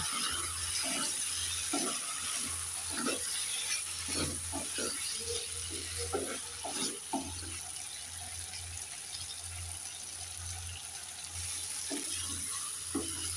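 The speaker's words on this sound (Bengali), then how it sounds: "একটু নেড়ে চেড়ে দিয়ে দেব" Fish and dhundul (ridge gourd) curry being stirred in a pan, with repeated scraping and clinking strokes over a low sizzle and a steady hum, while someone talks at times.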